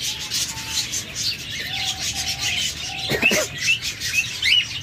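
Caged birds, including diamond doves, chirp and whistle in repeated short calls, with a brief flutter midway, all fairly close and continuous over a low background hum.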